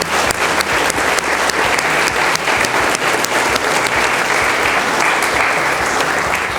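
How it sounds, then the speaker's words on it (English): Steady, dense applause from an audience at a community arts center's amateur art exhibition, a continuous, full round of clapping from a sizable indoor crowd that holds level throughout. "let's give them a big round of applause"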